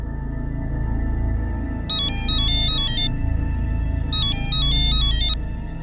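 A mobile phone ringtone plays twice in two melodic bursts over steady low background hum in a home setting, with no voices.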